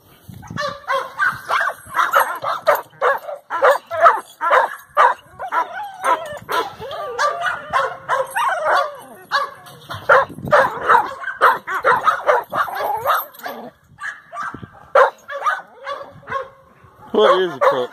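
Several kennel dogs in a yard bark, yip and whimper in rapid overlapping bursts, close and loud, while a voice talks among them.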